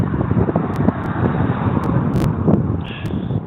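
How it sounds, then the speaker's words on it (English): Strong wind before a storm buffets the microphone in gusty, rumbling bursts, with a harsh continuous roar that rises and falls unevenly over a few seconds, loud and close. "it's really windy at the moment"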